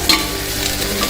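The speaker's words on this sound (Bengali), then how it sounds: "সব কিছুকে খুব ভালো করে তেলের মধ্যে ভেজে নেব" Onion, ginger-garlic paste and chopped tomato frying in hot oil in a home kitchen, a loud steady close-up sizzle with no talking.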